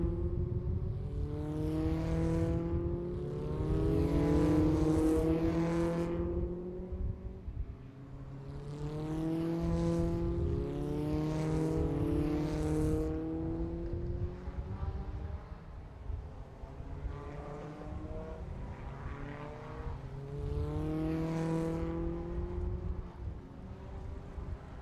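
Formula Sheane single-seater race cars lap a wet circuit, engines rising and falling in repeated passes, loud nearby then fading, with steady revving and gear changes and no talk.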